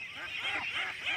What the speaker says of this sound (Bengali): ওই যে হাঁসের বাচ্চার শব্দ দেখা যাচ্ছে